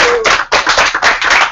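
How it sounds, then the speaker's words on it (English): A loud, close round of clapping from a podcast audience, dense bursts of hand claps with a brief gap near the middle, no one speaking over it. "So a round of applause for me, please"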